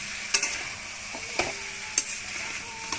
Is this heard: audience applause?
no